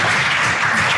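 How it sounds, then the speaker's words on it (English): A studio audience applauds steadily on a comedy panel show, a dense wash of clapping that holds at an even level for about a second. "Big hand of applause."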